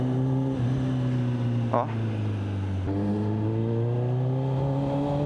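A Kawasaki 10R 1000cc superbike engine idles with a steady low harmonic drone, rising slightly in pitch toward the end, with a brief short blip near the middle and a person speaking briefly over it.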